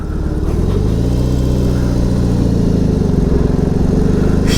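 A BMW R 18 B bagger motorcycle with a big 1800cc two-cylinder engine, riding along with a loud, steady, deep throbbing rumble close by and a slight rise in revs.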